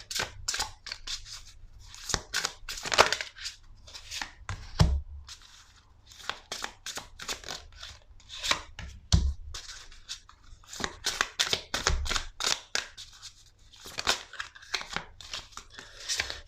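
Oracle cards are shuffled by hand in repeated crisp, papery bursts with short pauses, close and fairly loud, with no talk over them.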